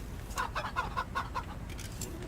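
Chickens clucking in the Wasteland 3 video game, a run of about six short clucks close together over a steady low background hum, then quieter scattered calls.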